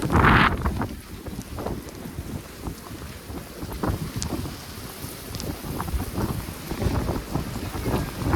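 Strong wind during a snowstorm in downtown Toronto buffets the microphone with a loud gust at the start, then keeps roaring and rumbling in uneven pulses throughout while walking along the street.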